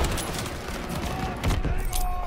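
Dense, continuous gunfire and explosions from the Call of Duty Modern Warfare video game, a loud, sustained barrage of rapid shots with booming impacts.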